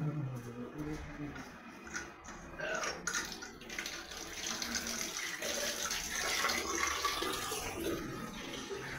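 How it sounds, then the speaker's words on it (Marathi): Water running steadily from a tap into a bucket in a home bathroom, a continuous rushing splash that holds at moderate level throughout, with faint background activity. "पाणी चालू करून ठेवलंय, म्हणजे जरा पाती भरून राहील"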